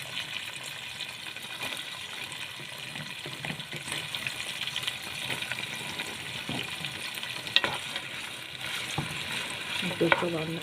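Onions fry in a single pot for Egyptian koshari, a steady close sizzle with occasional sharper crackles and faint stirring scrapes throughout.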